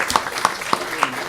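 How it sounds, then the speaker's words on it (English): An audience at a panel event in Glasgow applauds the panellists in a brief burst of clapping, with a few distinct claps standing out against the steady patter of a room full of hands. "round of applause, please, for our panellists"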